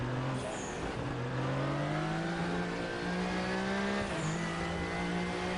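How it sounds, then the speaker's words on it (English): A turbocharged race car in the RaceRoom racing game, heard from the hood camera, drones through rising engine revs with a brief gear change dip before pulling up again, steady and alone. "Alright, test it out, see how the car sounds."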